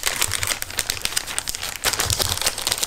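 A plastic sachet crinkles and rustles continuously as it is handled while small parts from a cutting machine are put back inside, with dense crackling bursts close up and no talk.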